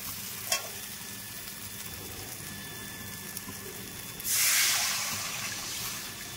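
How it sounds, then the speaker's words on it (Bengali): Fish frying with spices in a pan for a Bengali-style sea fish curry with capsicum, a steady soft crackle with a brief clatter early on and a louder burst of sizzling midway that slowly eases. "আবার দু তিন মিনিট ভাজবো।"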